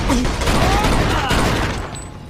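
Dense gunfire rattles loudly through a Mafia II shootout at the docks, a continuous burst of rapid shots with mechanical clatter and a brief shouted voice over the top.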